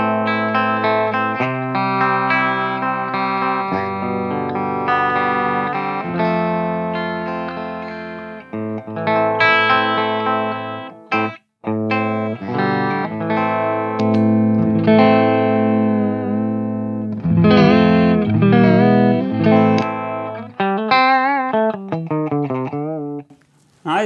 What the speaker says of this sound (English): So this is the clean mode of the clean channel.